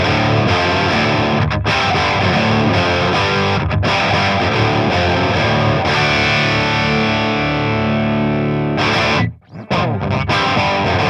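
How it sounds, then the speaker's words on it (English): An electric guitar plugged by a cable straight into the front of an amp plays a bright, distorted chord passage with rhythmic strums and one brief drop-out near the end, loud and alone. "it's just a cable from the guitar into the front of the amp"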